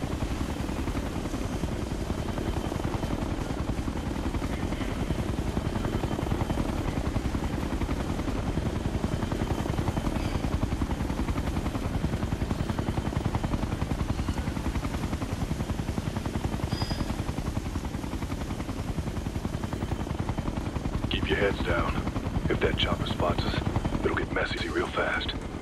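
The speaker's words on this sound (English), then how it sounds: "I've got eyes on a hostile chopper." A hostile helicopter in the video game Ghost Recon Future Soldier drones with a constant heavy rotor roar through the whole stretch, with bursts of what sound like gunfire near the end.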